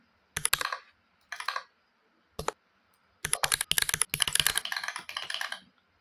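Bursts of quick, crisp keystrokes on a computer keyboard come in short clusters with pauses between them, ending in a longer run of rapid typing, close and clear with no talk.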